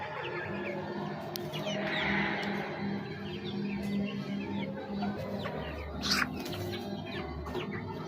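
Young pullets kept as pet chickens cluck softly around their shelter, with scattered chirps and a brief wing flap among steady low clucking.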